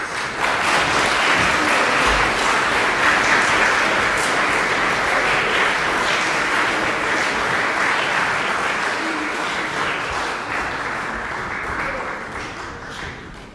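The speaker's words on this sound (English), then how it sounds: "Let's give them a round of applause" An audience applauds musicians at a school Eisteddfod, the clapping dense and sustained for over ten seconds before slowly fading.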